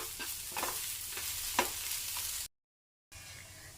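Onions sautéing with chilli, coriander and pepper powders in a pan sizzle steadily up close, with a few stirring scrapes before a brief silent break and more sizzling.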